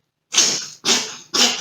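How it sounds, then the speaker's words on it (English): Three quick cat sneezes in a row, short bursty hisses close by, with brief pauses between them and no talking. "Bless you, Hermione."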